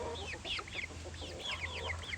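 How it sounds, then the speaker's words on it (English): A hen clucks among her seven-week-old chicks in a backyard garden, with rising chirps and soft clucks repeating close by over a low steady hum, no one talking. "Here comes Mama Hen and her babies."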